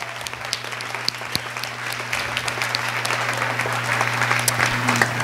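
An audience claps for classroom teachers at a school performance, a dense, sustained round of applause that swells slightly toward the end, with scattered sharp claps standing out near the front.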